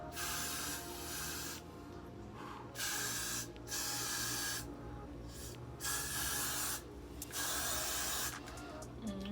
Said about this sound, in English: we're just gonna spray by the hairline